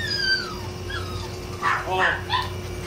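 Alaskan Malamute puppies, about two and a half months old, at a pet market let out several short yips and whimpering barks, close by, with someone talking over them.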